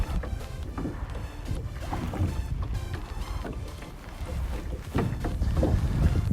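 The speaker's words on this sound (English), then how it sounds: "we're rowing a boat in a lake that is quite small." Oars work a rowboat across a small lake, with soft splashes and water lapping close by under steady wind buffeting the microphone.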